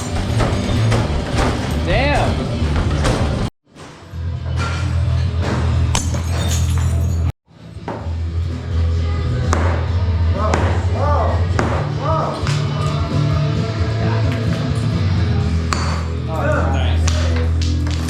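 Borosilicate Pyrex glassware smashes into shards: loud crashes and clinking, ringing fragments recur throughout, mixed with close voices and a dense, noisy background.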